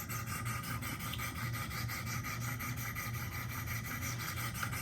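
Steady, continuous rasping strokes of a Spyderco Para 3 knife blade drawn across the stones of a Wicked Edge guided sharpener, an even, close-up scraping texture with no talk.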